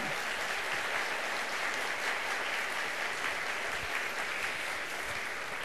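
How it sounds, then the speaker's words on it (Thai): A seated audience at a Thai lecture event applauds steadily, a dense wash of many hands clapping at once, full and even throughout with no pauses. "ก็ขอ เสียงปรบมือให้กับ คุณอิสระ ว่องกุศลกิจครับ"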